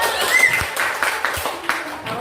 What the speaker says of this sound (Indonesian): Beri aplaus untuk kelompok satu.